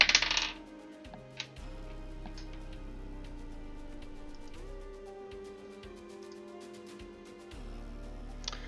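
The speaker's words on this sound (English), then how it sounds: "Bellatrix, dice your first parry." Dice rolled for a parry during a tabletop role-playing session: a quick rattling clatter opens the clip, followed by a single faint click, then a quiet sustained music bed.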